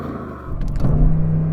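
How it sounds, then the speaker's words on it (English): A performance car engine, an Audi RS6, BMW M5 or AMG E63 S, is started and held at a low idle, with a rising whir and a brief rev, close and loud with no talk. "what we're going to do is the Car Wow sound check."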